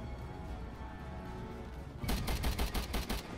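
Gunfire in Resident Evil 6, a rapid burst of repeated shots in the last second and a half, loud and close after a stretch of low background noise, no talk.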